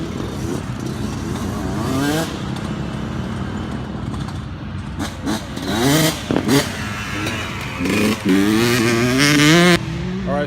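Kids' dirt bikes ride a motocross track, their small engines rising and falling in revving sweeps from moderate distance, several machines overlapping as they pass.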